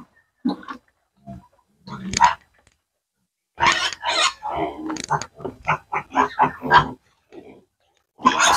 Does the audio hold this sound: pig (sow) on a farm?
yes